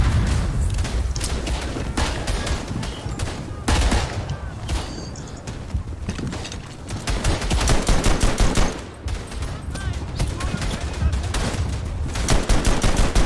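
Gunfire in the World War I game Verdun: bursts of rifle and machine-gun shots crack and boom repeatedly at varying distances, dense and continuous throughout.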